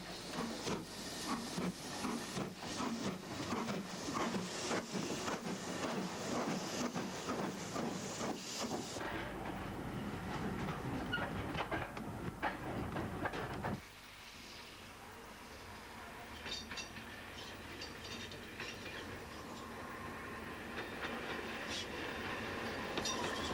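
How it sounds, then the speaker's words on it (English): A steam locomotive train on the West Somerset Railway passes near Doniford: loud rumbling, hissing and rhythmic wheel clatter that cuts off abruptly, followed by quieter distant rolling and hiss. "The Manor departs Washford, while we pick up the 4MT on the approach to Doniford."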